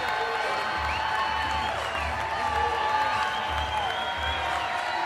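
A softball crowd in Columbia at a college game with Missouri hosting cheers and applauds in a steady, distant wash of noise, rising and falling slightly, with a commentator talking over it.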